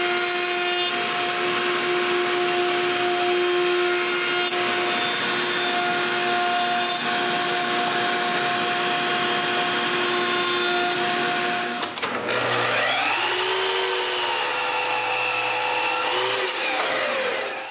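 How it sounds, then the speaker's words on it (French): An electric power tool cuts a rounded edge into a wooden walking-cane or railing piece, giving a loud, steady whine. Near the end the pitch shifts and drops as the cutter bites into the wood. "Pour que ça soit doux au toucher, je coupe un arrondi."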